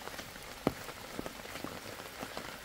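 Light rain falls on a tent or campsite surface during a camping trip in heavy rain, heard as a faint, steady patter with scattered soft drops, one sharper tap standing out, and no talk.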